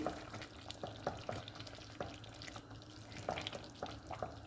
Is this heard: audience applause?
no